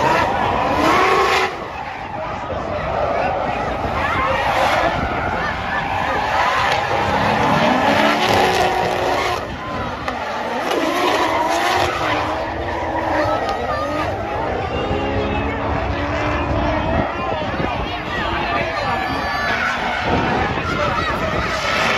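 Drift car skidding with squealing tires during a drifting battle, engine roaring loudly and continuously with wind buffeting the microphone, while a commentator talks over the action throughout.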